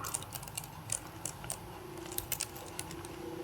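Light, irregular key clicks from a computer keyboard as an address is typed during a networking setup on an Ubuntu client, soft taps over a quiet room hum with no talking.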